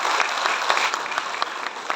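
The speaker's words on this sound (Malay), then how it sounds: "Kita bagi tepukan sekali lagi bergemuruh kepada DPK kita." Dense, steady applause from an audience at an official celebration ceremony, continuous clapping filling the whole stretch with no voices over it.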